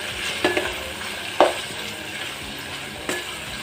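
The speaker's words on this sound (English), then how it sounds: "So make sure you fry your onions till they turn golden brown" Onions fry in a pan for pilau, a steady soft sizzle with a few sharp clinks of a stirring utensil against the pot.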